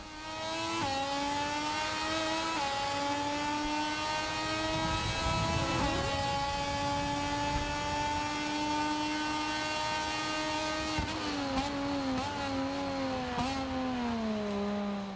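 A MotoGP 25 Moto2 motorcycle in a career-mode video game revs hard. The loud engine whine climbs and holds, with several sharp pitch drops at gear shifts and a rapid run of shifts near the end.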